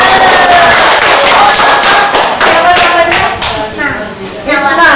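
A group, apparently children at an Independence Day themed environmental education workshop in Mendawai, Central Kalimantan, claps hands in a dense, fairly loud burst of irregular claps lasting several seconds, with voices mixed in.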